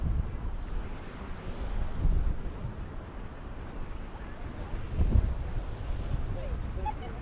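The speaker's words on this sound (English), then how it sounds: "Windy and a bit cold" Gusty wind buffets the microphone by the ocean on a cold day, a steady low rumble with louder gusts rising and falling throughout, waves faintly beneath.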